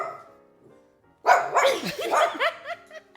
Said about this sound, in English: He gets territorial, so if I touch Allie, you can hear him bark.